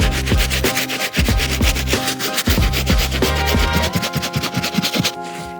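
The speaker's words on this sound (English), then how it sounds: "I'm gonna get it in the water and solution and give it a good scrub on that area" A medium-bristle brush scrubs a wet white mesh Nike Air Max 95 with water and cleaning solution in fast, rhythmic back-and-forth strokes that sound close, loud and continuous throughout.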